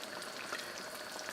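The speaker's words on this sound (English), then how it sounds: "I'm going to let this simmer for about" Chicken paprika sauce bubbling in a pot on the stove, a close, steady sizzling and popping hiss with no voices over it.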